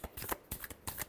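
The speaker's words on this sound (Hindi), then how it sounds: "Last shuffle." Tarot cards are shuffled by hand in a quick riffling burst, a few rapid, crisp flutters of card edges, close and brief.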